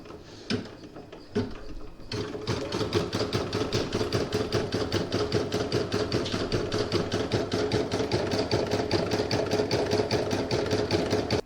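A sewing machine stitches a border in variegated orange and yellow thread on a Halloween coaster, starting with a few clicks, then settling into a long, steady, rapid mechanical chatter that stays close and even throughout.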